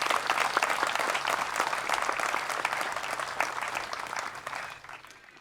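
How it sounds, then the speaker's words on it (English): Audience applause at an Australia Day event, a dense, steady round of clapping from a sizeable crowd that holds for several seconds and then tapers off at the end. "Give her a big round of applause."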